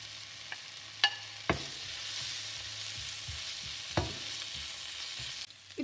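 Chapati pieces stir-fried in a pan for egg kothu chappathi, a quiet steady sizzle broken by a few sharp clinks and scrapes of a utensil against the pan.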